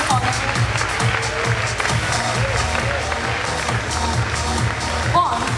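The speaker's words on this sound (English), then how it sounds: "Can we have a huge round of applause for Miss Mary Davis, our guest of honor?" School audience at a Scottish high school gives sustained applause for a guest of honor, a steady wash of clapping with some crowd noise and faint voices beneath.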